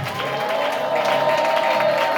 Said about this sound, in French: j'ai besoin d'entendre une ovation d'acclamation. Ajoutez avec les cris de joie